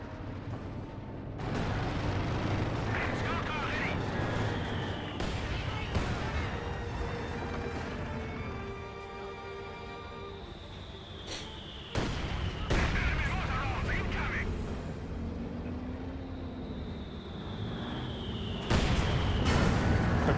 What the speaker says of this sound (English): mortar does bounce to the Panther